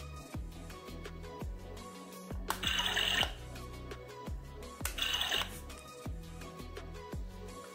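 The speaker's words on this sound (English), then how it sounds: "This is a water dispenser. We drink water from this." Water pours from a toy mini water dispenser in two short, faint splashy bursts, separated by soft clicks and knocks of handling the plastic toy kitchen item.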